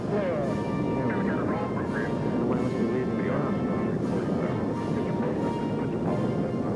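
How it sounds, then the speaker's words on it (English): The Apollo 11 rocket lifts off as a continuous, heavy broadband roar that holds steady throughout, with a voice talking over it. "Liftoff on Apollo 11."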